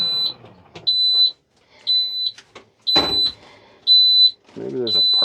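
A tractor's high-pitched electronic warning tone beeps repeatedly in evenly spaced half-second pulses, loud and close, with a voice and a few clunks between beeps.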